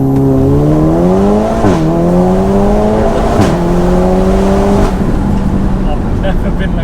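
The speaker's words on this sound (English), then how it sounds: "I've never been in a car that launches like that." A 600BHP VW Golf R launching and accelerating hard from inside, engine droning loud and steady as pitch climbs through rapid gear changes with brief dips between shifts.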